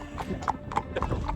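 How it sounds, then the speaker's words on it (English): Horse hooves clip-clopping on a hack out, a steady close rhythm of hoof strikes over a low background rumble. "And Flora, we're out hacking"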